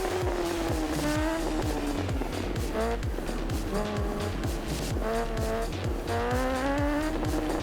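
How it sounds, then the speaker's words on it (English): A racing motorcycle in RiMS Racing screams at full throttle, its high engine note climbing and dropping through repeated gear changes as it powers out of turns, loud and steady throughout. "we can do like full throttle now coming out of these turns without much hassle"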